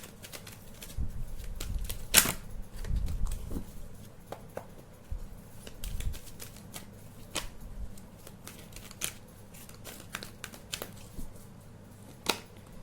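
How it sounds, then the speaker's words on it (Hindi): Tarot cards are pulled quickly from a deck, giving sparse, sharp snaps and light papery slides close by, separated by quiet gaps, with no speech. "मैं जल्दी जल्दी से उनकी कार्ड्स निकालूंगी"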